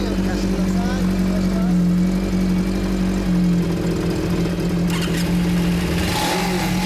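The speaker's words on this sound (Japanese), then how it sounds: "こちらエンジン音聞かせてください" A motorcycle engine idles steadily with a deep, even hum, likely one of a 1994 Suzuki Katana GSX1100S, a Harley-Davidson Sportster XL1200 or a Kawasaki Z400FX. A brief rev rises near the end, and a voice speaks faintly in the background.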